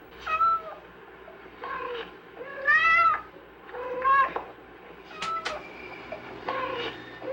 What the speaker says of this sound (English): cats produce about 15 basic calls, several of which can be combined to give a total vocabulary of approximately 25 different vocalizations